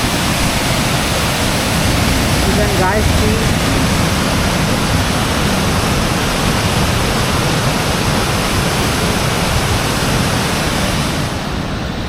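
Water rushing through an open dam, a loud, steady roar of broadband noise that fills the whole stretch without pause.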